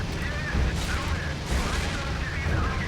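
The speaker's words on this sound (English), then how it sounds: "Let's get a couple cannon shots on him." Cannon fire from a BF-109 fighter in the IL-2 Sturmovik flight game, a few heavy booming bursts over steady engine drone, roughly evenly spaced, with no talk.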